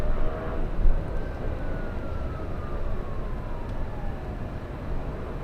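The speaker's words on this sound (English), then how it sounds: "I'm hearing more sirens around." A wailing emergency vehicle siren near Los Angeles airport, distant and sliding slowly down in pitch over several seconds, set against a dense wash of traffic and airport rumble.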